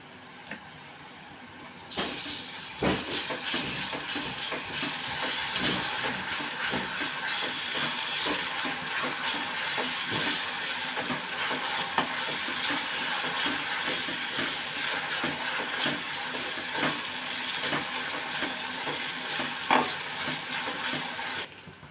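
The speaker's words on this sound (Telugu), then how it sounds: "ఇప్పుడు ఇందులో ఒక స్పూను అల్లం వెల్లుల్లిపాయ పేస్ట్ కూడా వేసుకుని వేయించుకుందాం" Ginger garlic paste frying with onions in a pan while cooking pepper chicken liver fry, a steady close sizzle with frequent scraping and stirring taps from a spoon.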